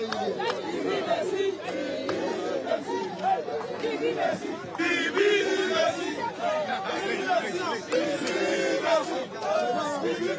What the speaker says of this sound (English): The crowd is getting uncontrollable here.